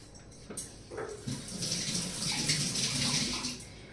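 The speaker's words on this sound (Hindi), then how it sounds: "1 मिनट पहले मैं हाथ धो लूं।" Water running from a tap while hands are washed, a steady close splashing gush that swells after a brief start and fades toward the end, with no talking.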